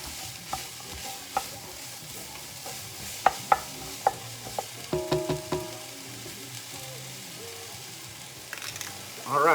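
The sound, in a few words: stirring ingredients into a pot of pasta fagioli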